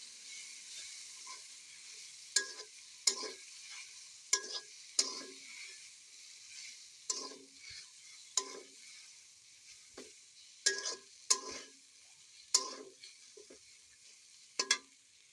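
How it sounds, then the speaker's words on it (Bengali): Noodles frying with spices in a pan, a continuous sizzle punctuated by sharp, regular clacks and scrapes of a spatula against the pan every second or so, close and fairly loud. "এবার ভালো মতো মশলা দিয়ে নেড়ে চেড়ে নিয়ে নেব।"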